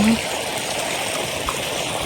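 Irrigation water flows into a village field in Gujarat, a steady close rushing wash of running water that continues without a break.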